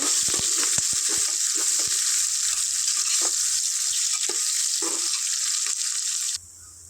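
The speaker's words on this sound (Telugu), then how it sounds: "దీంట్లో ఒక టూ ఆనియన్స్ ఒక ఫోర్ మిర్చి వేసుకుంటాను ఫ్రెండ్స్ ఇది ఒక లైట్ గోల్డెన్ బ్రౌన్ కలర్ వచ్చేటట్టు ఫ్రై చేసుకున్నాం" Onions and green chillies fry in hot oil with a steady, loud broadband sizzle, broken by frequent clicks and scrapes of stirring, until the sizzle drops away abruptly near the end.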